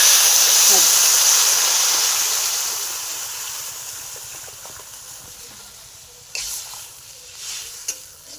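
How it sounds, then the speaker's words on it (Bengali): Water poured into a hot, well-fried curry in a pan hisses with a loud, broad sizzle that slowly fades, followed by a few brief clinks and stirring noises near the end. "এবার আমি পরিমাণ মতো জল দিয়ে দেবো"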